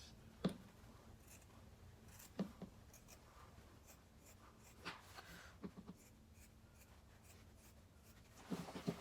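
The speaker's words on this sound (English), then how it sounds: "So I'll clip the corners." Scissors snip the sewn corners of a pleated tote bag, leaving a few faint, scattered close cuts over quiet fabric rustling and handling noise.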